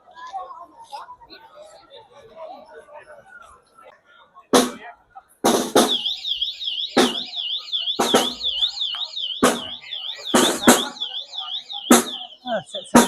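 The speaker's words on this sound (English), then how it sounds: "Oh, set some fire alarm off." A warbling electronic alarm wails steadily at a fishermen's flotilla festival in Puerto de Mogán, broken by a series of sharp, loud firecracker-like bangs, with voices nearby.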